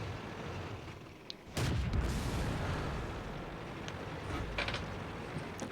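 Artillery fire in World of Tanks lands as one sudden, deep boom that rolls into a sustained rumble, with faint scattered cracks later and no voices.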